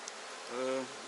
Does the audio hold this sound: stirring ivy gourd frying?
no